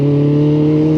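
A motorcycle engine revs steadily through a rev-matched two-gear downshift, its loud, close drone holding a constant, even pitch for the whole second with no voices.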